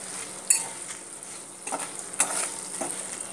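Green chillies fry in oil with a constant close sizzle, broken by several sharp clinks and scrapes of a spatula stirring against the pan.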